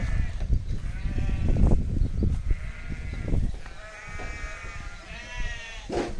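Sheep on a farm waiting to be sheared bleat repeatedly and loudly up close, overlapping calls with shuffling and low rumbling noise in between.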